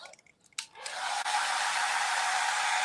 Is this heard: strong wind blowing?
no